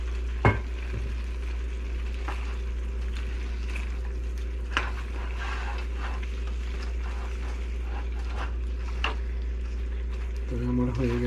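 Bean sprouts tossed into a pan of chicken and broccoli stir-fry, a steady loud sizzle with a few sharp scraping clacks of the utensil against the pan.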